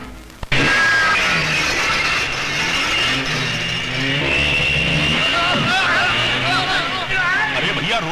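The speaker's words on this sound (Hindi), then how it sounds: "अरे भैया मोटरसाइकिल सवारो, मेरे घर को हाईवे समझकर घुसे चले आ रही हो" Several motorcycles roar through a house as though it were a highway, engines revving loudly and continuously close by, with shouting voices and crowd commotion over the machine noise in a Hindi action movie scene.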